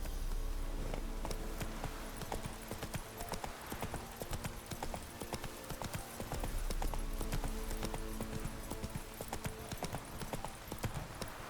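Horse named Roach galloping in The Witcher 3: Wild Hunt video game, a continuous dense drumming of hooves at close range over a steady outdoor backdrop.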